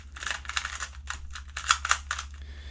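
A MeiLong M series speedcube is turned fast with light, clacky clicks, a quick run of plastic snaps and rattles close by with a couple of louder clacks near the end.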